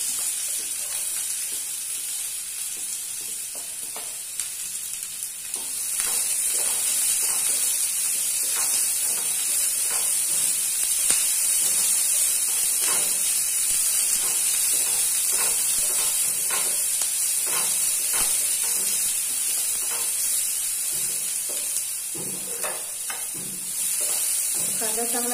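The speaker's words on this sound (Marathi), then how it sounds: "आता मी त्यामध्ये कांदा पोळून घेते." Onion frying in hot oil in a pan while making egg curry: a steady, close sizzling hiss that swells louder after a few seconds, with occasional stirring scrapes.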